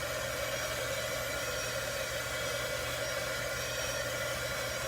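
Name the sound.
heat tool blowing hot air to dry paint on a stencil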